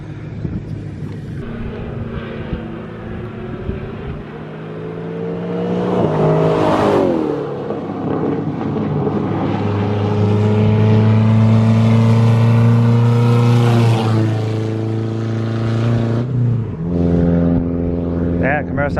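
A Chevrolet Camaro with its muffler deleted, revving and accelerating with a loud, raspy exhaust drone that rises and falls in pitch, building to sustained roars with brief lifts between pulls.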